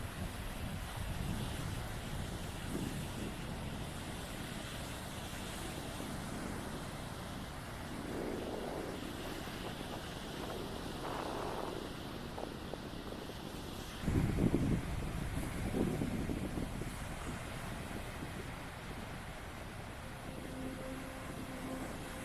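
Steady wind and surf roll along an open Atlantic beach at Horgabost on Harris, Scotland, a continuous broad roar with wind buffeting the microphone and a slightly louder gust or wave surge midway, no voices.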